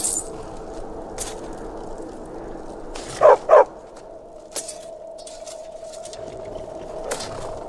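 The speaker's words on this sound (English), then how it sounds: "So now Vigilance is your dog" A dog in the video game Skyrim gives two quick, close barks in a row, with a few faint clicks and a low hum around them, no one talking.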